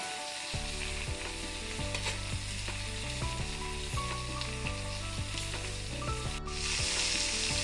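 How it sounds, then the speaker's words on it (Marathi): Long pieces of narba fish, a pomfret-like fish, frying in oil in a pan on their second side. A steady, close, even sizzle runs throughout, with no talking. "आता दुसऱ्या बाजूने पण तसंच तळून घेऊया एकदम"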